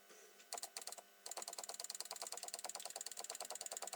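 A stepper motor switched on with its controller runs with a rapid, regular train of buzzing ticks that starts, pauses briefly, then continues steadily, close and fairly quiet.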